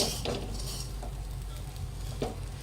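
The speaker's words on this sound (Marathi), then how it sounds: "2-3 वेळा मी तूप पण टाकलं आणि भाजते अजून" Fenugreek laddu flour mixture roasting in ghee in a pan, a soft continuous sizzle broken by a few scraping stirs of a spoon, close and fairly quiet.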